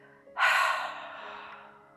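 A single slow, breathy exhale through an open mouth during a yoga breathing exercise, starting strong and close, then fading gradually over about a second and a half.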